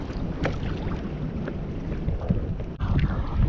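Strong wind buffets a microphone out on the water during kayak fishing off Perth, a steady low rumbling roar with gusty bumps and some faint splashes, loud and close, with no talking.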